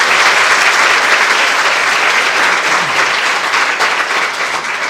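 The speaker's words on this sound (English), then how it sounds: "let's give a round of applause to all the nominees" Audience at a Women in Leadership luncheon gives the nominees a loud, dense round of applause, sustained evenly throughout.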